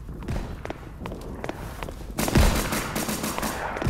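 Gunfire in the Roblox game Flashpoint, a run of sharp shots and rapid bursts mixed with thudding footsteps, intensifying into heavier, louder fire partway through, without speech.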